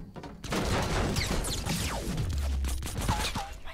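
Rapid bursts of silenced pistol fire in the Fortnite video game, dense clattering shots and game effects packed into a few seconds, fairly loud and unbroken.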